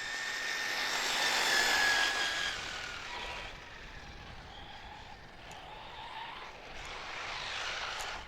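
A Traxxas Slash 4x4 RC truck on 4S brushless power makes a winter flyby, its high-pitched electric whine rising as it nears, peaking loudly, then fading to a steadier distant drone with some tire and surface noise.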